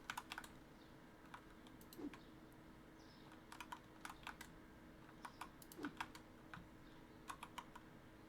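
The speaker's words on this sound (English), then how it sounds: "Got some nice keyboard sounds." Computer keyboard typing in irregular bursts of crisp clicks, fairly close, with short pauses between flurries over a low steady background hum, during a game stream.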